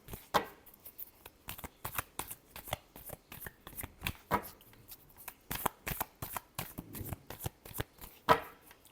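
Tarot cards being shuffled by hand, giving a string of quick riffling bursts and soft slaps at an irregular pace, close and fairly quiet, with no talking.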